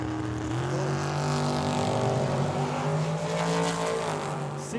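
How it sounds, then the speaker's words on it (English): A dragster races down the drag strip at Tucson Dragway, its engine a rising, sustained roar with shifting pitch, moderately loud and alone. "The dragster trying to play catch up."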